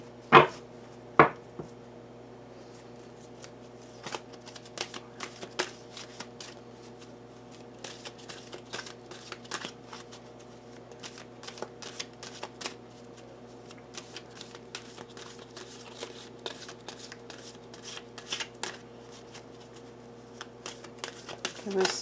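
Tarot cards are shuffled by hand, with many quick, crisp riffling flutters and soft card taps repeating across a quiet room, plus a couple of sharper knocks near the start.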